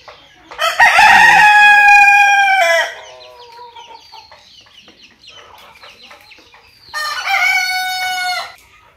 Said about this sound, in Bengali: এখানে 18টা মোরগ মুরগি আছে।